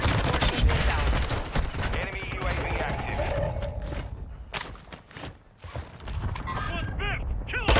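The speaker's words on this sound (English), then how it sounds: "Friendly mortar strike inbound." Friendly mortar strike explosions in Call of Duty Warzone, with heavy booms and crackling gunfire mixed with dense game noise throughout and voice callouts near the end.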